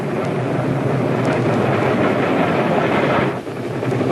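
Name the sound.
freight train running on rails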